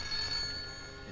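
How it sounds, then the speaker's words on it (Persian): A telephone bell rings continuously for the whole moment, a steady, bright metallic ring at moderate level with no voices over it. "زنگ میزنه تلفن میزنه"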